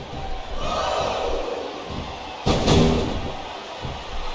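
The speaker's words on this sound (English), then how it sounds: "Sounds like this crowd's got something on their minds" Wrestling arena crowd at a casket match, a loud roaring mass of voices swelling with a sharp burst midway, under commentary talk.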